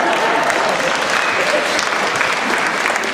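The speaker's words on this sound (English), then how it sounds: "that was a nice cover-up applause" An audience at the first night of the musical The Drowsy Chaperone claps in a dense, continuous wash of applause that holds at an even loudness throughout.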